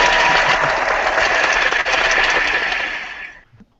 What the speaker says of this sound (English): I'm just going to use the applause button over and over again